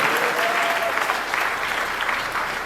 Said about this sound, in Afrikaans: Geef julle self lekker hande klap.